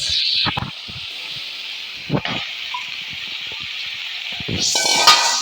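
Chopped onion and cabbage frying in oil make a steady, bright sizzle, broken now and then by the clatter of a spoon stirring the pan.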